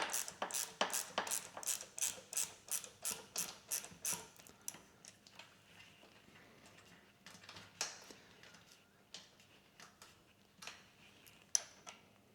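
A ratchet loosens the 8mm fuel tank bolts on a Honda CB500X motorcycle, giving rapid, evenly spaced sharp clicks for about four seconds, then slower, scattered clicks and a few louder snaps.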